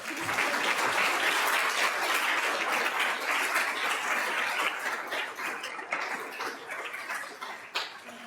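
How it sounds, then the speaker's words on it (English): Sustained applause from an audience at a panel event on confidentiality and NDA use, a dense steady clapping that slowly thins toward the end. "Let's give them a round of applause."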